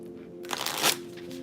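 A Gummy Bear tarot card deck is shuffled close up, a brief riffling burst of papery flutter lasting about half a second over a quiet background hum.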